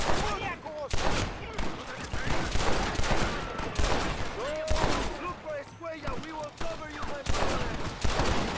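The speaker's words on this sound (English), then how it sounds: "They're shooting me in the butthole. They're shooting me in everything, really." Dense gunfire from a shootout in Red Dead Redemption, rapid overlapping shots and bursts crackling throughout with a few whistling tones mixed in, under occasional talk.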